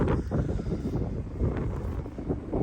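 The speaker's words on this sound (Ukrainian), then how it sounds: "вітер дує" Wind blowing outdoors in the countryside, buffeting the microphone with a loud, low, rumbling roar that gusts unevenly throughout, with no talk.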